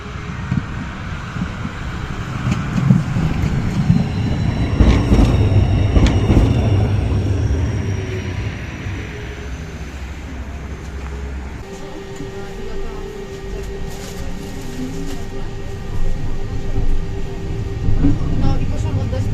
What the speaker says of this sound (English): now let's take a ride on a single car modernized tram